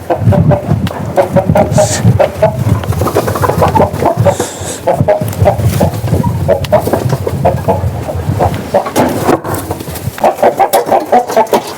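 Many chickens on a sheep farm cluck continuously in a steady, busy chorus close by, loud throughout with no pauses and no speech.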